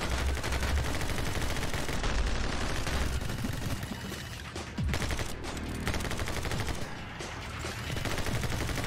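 Rapid bursts of gunfire from the My Friend Pedro video game, dense and continuous over a busy game soundtrack, loud throughout with a brief dip midway before the shooting resumes.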